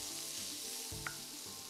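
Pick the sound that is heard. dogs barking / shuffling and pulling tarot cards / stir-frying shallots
stir-frying shallots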